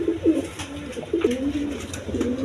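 Pigeons kept for sale coo in overlapping, rolling calls close by, several birds layered together in a steady murmur with no talking.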